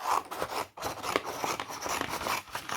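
Scissors snipping through pieces of paper craft material, repeated crisp cuts and rustling close by, no talking.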